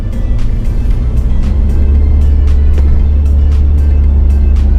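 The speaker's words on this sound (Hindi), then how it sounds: "उधर से जो तेज को गाड़ी आ रही" Vehicle approaching fast and passing on a road between Vientiane and Luang Prabang in Laos, heard as a loud, continuous low engine rumble with steady road roar throughout, close by and without speech.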